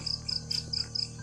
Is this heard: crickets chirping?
yes